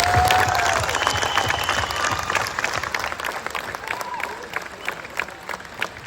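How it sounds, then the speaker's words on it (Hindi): A crowd at a Vestige meeting in Hyderabad gives hearty applause, loud continuous clapping that stays dense across the whole stretch, with some background voices underneath. "सब लोगों के लिए एक जोरदार ताली होना चाहिए।"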